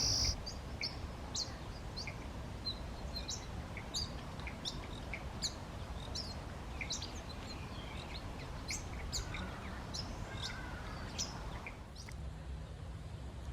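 Pin-tailed whydah in a garden, calling in repeated high, sharp chirps and short twittering phrases against a steady hum of insects and outdoor background.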